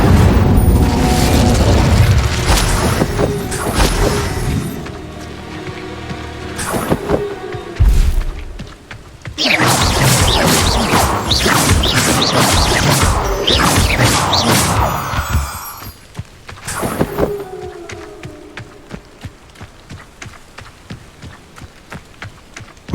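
Loud, dense spell blasts from the Incendio fire spell in Hogwarts Legacy, with booming bursts and crackling impacts. They come in heavy waves, with a brief lull around the middle before a second strong barrage that fades near the end.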